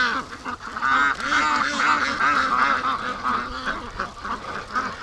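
Free-range Muscovy ducks call in a flock, a steady stream of soft hissing, honking quacks close by, with someone speaking now and then.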